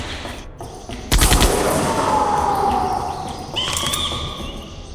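Gunfire in Jurassic Park: The Game, a sharp close burst of rapid shots followed by a lingering echoing tail and outdoor ambience, with a second fainter burst near the end.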